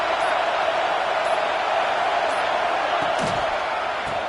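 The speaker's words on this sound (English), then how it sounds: "The crowd really making some noise now, trying to help out this defense to get this stop near the goal line." A football crowd roars as the defense tries to get a stop near the goal line, a dense, steady wall of cheering and noise that holds for several seconds.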